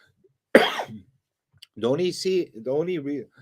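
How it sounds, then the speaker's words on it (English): A single sharp cough bursts out, followed after a short pause by a person talking. "It's me coughing because I'm a wreck."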